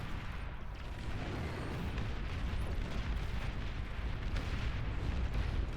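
Cerberus heavy weapon in the strategy game Beyond All Reason fires amid a dense battle, a continuous rumble of booming artillery-like blasts and bursts, loud and layered with no pauses.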